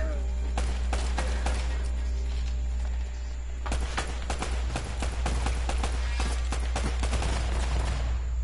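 Rapid bursts of video game gunfire from Uncharted crackle in quick clusters, with dense volleys of closely spaced shots over a constant low rumble.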